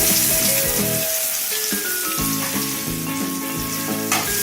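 Chopped onions frying in a hot pan give a loud, steady sizzle with crackling bursts and occasional stirring scrapes, continuous throughout with no voices.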